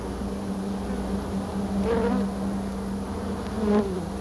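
Honey bees buzzing inside a hive, a constant droning hum with a couple of louder passes as individual bees fly close.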